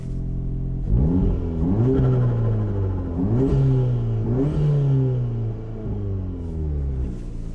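Mk7 Golf R with a Remus exhaust, valves open, revved repeatedly: a deep rumbling idle rises into several loud throttle blips and sweeping revs, each falling back, close and alone with no talk.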